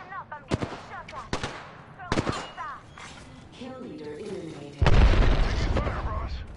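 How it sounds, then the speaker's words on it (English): Gunfire in Apex Legends: a few sharp shots crack early, then a heavy, loud sustained burst of automatic fire with booming impacts near the end; a voice speaks between shots. "Listen up, I'm getting shot at."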